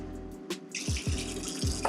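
Water runs from a kitchen tap to fill a kettle or pot for coffee, a short steady splashing stream that starts after a few clicks and knocks and continues close by.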